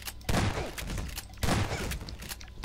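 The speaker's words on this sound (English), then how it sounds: "Why are we having a firing session?" Gunfire in the video game Garry's Mod, two loud heavy bursts of shots about a second apart, each followed by a rumbling, crackling tail.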